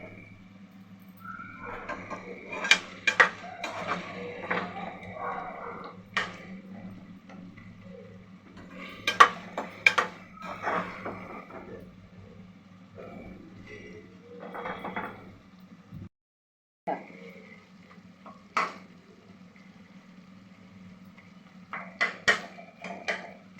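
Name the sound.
stirring brinjal curry in a pan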